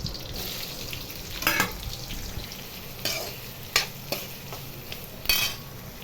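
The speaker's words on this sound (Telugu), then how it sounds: "ఇప్పుడు ఉల్లిపాయ ముక్కలు, పచ్చిమిర్చి వేస్తున్నాను." Onion pieces and green chillies fry in hot oil in a pan, a soft steady sizzle broken by several louder scrapes and clatters as a spoon stirs them.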